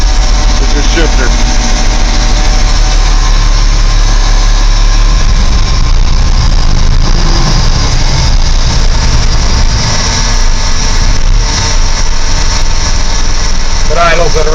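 A 1994 Ford L8000 dump truck's diesel engine idles loud and close with a deep, steady rumble, a faint squeal, and a hum like air pressure building, unbroken for about fifteen seconds.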